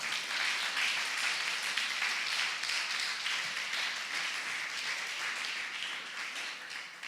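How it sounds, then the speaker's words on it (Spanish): A church congregation claps together during a sermon, producing a sustained, fairly loud wash of applause that gradually eases off, with no voices on top. "Dale palmas al Señor, glorifícale."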